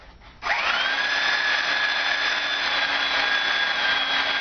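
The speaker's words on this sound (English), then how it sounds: "The way we're going to do that is with a belt sander and 120 grit sandpaper." A belt sander fitted with 120 grit sandpaper starts up and runs on solid wood dresser drawer fronts, a loud, steady, close whine and grinding hum holding constant after a quick spin-up, with no talking.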